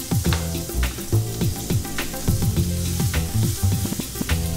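Steak frying in a pan with garlic and butter, crackling and sizzling loudly up close, with repeated spattering pops and occasional scraping throughout.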